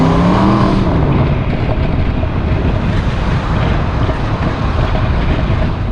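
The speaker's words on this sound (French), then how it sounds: "Ok Andrea, on va essayer d'entendre l'échappement." Aston Martin V8 Vantage S exhaust heard while driving on a Milan vlog outing, a steady low engine drone buried under heavy wind buffeting, with a brief tonal swell at the very start.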